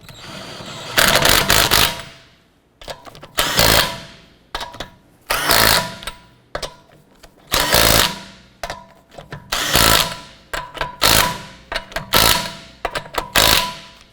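A powered wrench snugs down lug nuts on a 2008-2012 Honda Accord wheel, firing in repeated short rattling bursts, roughly a dozen close, loud spurts separated by brief pauses.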